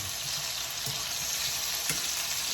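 Food sautéing in oil in a pan makes a constant close sizzle, with a few soft stirring knocks and no voices.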